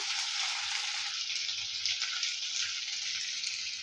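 Curry leaves, two garlic cloves and a pinch of tamarind sautéing together in a pan for a chutney, giving a steady, bright, close sizzle that runs unbroken with no voices.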